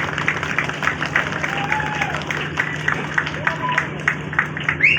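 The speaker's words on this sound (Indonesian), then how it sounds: "Kita tepuk tangan." An audience applauds at a student cultural festival in Papua Tengah, a steady patter of clapping from a crowd under a faint amplified voice.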